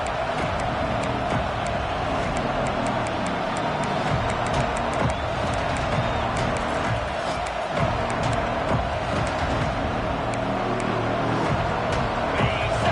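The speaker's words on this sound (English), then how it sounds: "this crowd is at fever pitch" A packed stadium crowd roars in College Football 26 during a South Carolina vs Florida game, on a third-down play in the red zone. The loud, steady roar holds unbroken for the whole stretch with no clear individual voices.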